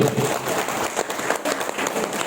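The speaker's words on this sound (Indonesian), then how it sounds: "Tepuk tangan untuk Ibu." A crowd at a formal gathering applauds a woman who serves on a provincial board: dense, steady, loud clapping filling the whole moment.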